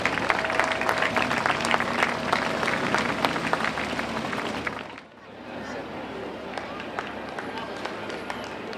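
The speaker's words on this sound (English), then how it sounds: "Please give Al a big round of applause." Crowd applauding at a Veterans Day parade in downtown San Jose: dense, loud clapping with cheering and an announcer's voice over it, easing briefly, then continuing more softly outdoors.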